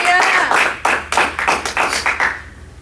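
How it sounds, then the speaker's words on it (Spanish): A church congregation claps loudly in distinct bursts of hand claps, several sharp strikes in quick succession before the sound trails off, close and prominent. "Denle ese aplauso fuerte al Señor."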